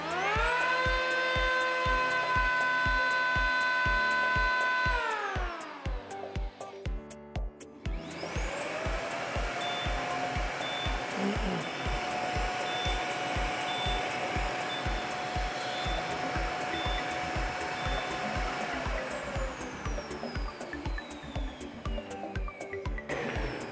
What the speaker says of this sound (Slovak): Mohol si sledovať oneskorené zapnutie vysávača, až keď som vypol hoblík.